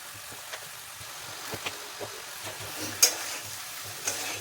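Vegetables being stirred in a pan with turmeric, cumin and coriander powder, giving soft scraping strokes and a faint sizzle, with scattered light clinks of the spoon and one sharper knock, close and quiet.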